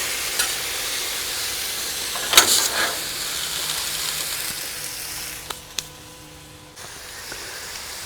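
Fajitas sizzle on a Blackstone griddle with a loud, continuous hiss and crackle, broken by a brief scraping stir and a couple of sharp utensil clicks near the end.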